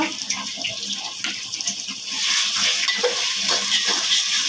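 Garlic and ginger paste, a tablespoon of each, frying in a pan for a beef and jute-leaf meal, a steady close sizzle that swells louder midway, with scraping stir strokes throughout.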